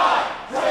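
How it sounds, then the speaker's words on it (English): Crowd shouting and cheering at an indie wrestling match in Indiana, Pennsylvania, a short, loud, sustained roar with a slight dip midway. "I'm going to let the crowd handle this."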